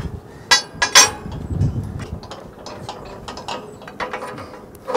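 A longer bolt is worked into the linkages of a Q-Catch cattle chute squeeze, giving close metallic clinks and knocks, a few sharp taps early, then scattered rattling.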